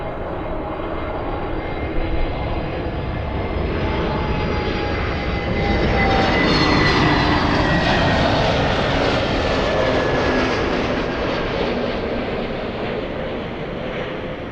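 A Spanish airliner bound for Madrid takes off from runway 24 left at LAX, its jet engines a broad, steady roar heard from a distance that swells slightly in the middle and holds throughout.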